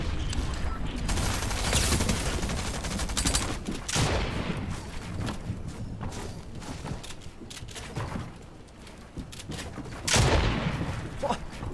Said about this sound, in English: SMG runs out of ammo so quick!